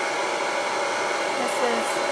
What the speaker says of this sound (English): I'll start with it on low so you can see the difference then when I change it to high. So this is low.